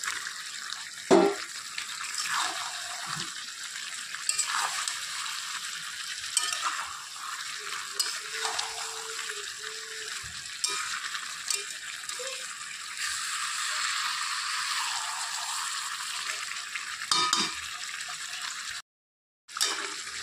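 Chicken frying in a pan with previously fried potatoes, a steady crackling sizzle with intermittent scraping stirs and brief clatters, cutting out briefly near the end.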